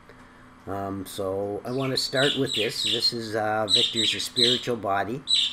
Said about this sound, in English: if you hear a blackbird call and a budgie talking